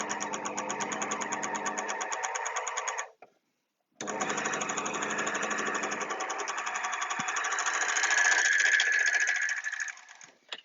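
An overlocker runs a row of flatlock stitching in a loud, steady machine whir, stops for about a second, then starts again and builds slightly before stopping near the end.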